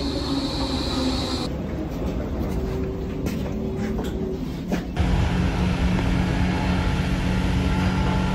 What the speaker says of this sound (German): Jetzt verpasse ich auch die S-Bahn.